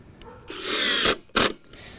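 A power drill drives screws into a shed floor wall plate, sounding as a close, loud whir of just over half a second followed by a second short burst, with no talk.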